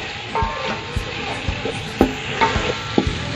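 Chopped tomatoes with ground ginger and garlic sizzling in a pan for kadhi pakora, a close, steady fry broken by repeated scrapes and taps of a spoon stirring the mixture.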